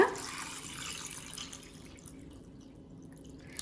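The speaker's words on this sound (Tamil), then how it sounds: "ஸோ தண்ணி இந்த மாதிரி ஊற்றி வச்சிடலாம்." Water poured over pearl millet set to soak, a close splashing pour that tapers off into quieter trickling and drips.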